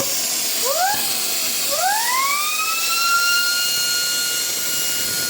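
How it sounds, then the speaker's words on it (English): A small Lego vacuum engine with a larger intake spinning up to high RPM, a loud steady hiss under high whining tones that sweep up sharply twice and then hold, close and continuous. "This was the first iteration of the engine with larger intake."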